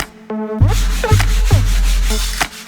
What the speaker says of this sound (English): and now we are ready for sanding